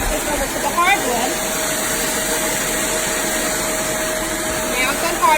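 A Shark ZU782 Rotator Lift-Away DuoClean Pro upright vacuum runs steadily on a hardwood floor, a loud continuous suction roar with a faint whine that holds for several seconds without pause.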